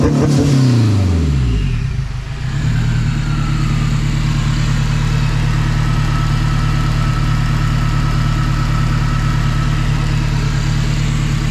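A K24 engine swapped into a Miata rumbles at a steady idle after an opening rev that rises and falls, the close, loud drone continuing evenly with no talking.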